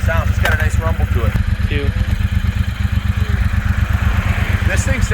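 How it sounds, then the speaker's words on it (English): A 2022 Triumph Bonneville Speedmaster 1200 motorcycle gives a deep, steady engine rumble that stays close and constant, with a person talking over it. "Let me do a drive-by so you can hear how it sounds. It's got a nice rumble to it."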